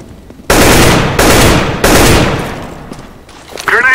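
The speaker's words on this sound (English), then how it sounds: "Shotgun behind you." Three loud, close shotgun blasts from a first-person shooter match boom in quick, fairly even succession, each tailing off, before a brief voice cuts in at the end.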